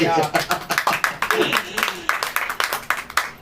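A church congregation claps in a rhythmic, fairly steady beat, each clap distinct, with voices heard over the clapping.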